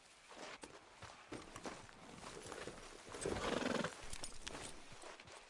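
Horse hooves clip-clopping in a video game: a steady walking rhythm of soft, fairly quiet hoofbeats, with a brief snort or whinny partway through and low ambient background.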